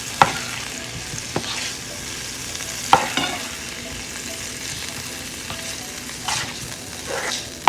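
Sweet potatoes and butternut squash being tossed in a buttery pan, giving a steady sizzle with a few sharp clacks of a utensil against the pan. The sounds come close and clear, and no one speaks.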